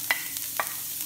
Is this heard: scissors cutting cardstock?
no